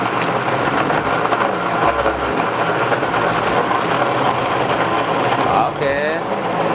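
A Nutrimix multipurpose blender motor whirs continuously at an even pitch while a person talks over it, with a brief change in tone near the end.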